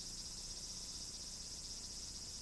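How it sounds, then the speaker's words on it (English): Cicadas drone steadily on a hot day in the Prosperity game, a faint, unbroken high buzzing with no other sounds. "Oh, it's a hot day. Hear that?"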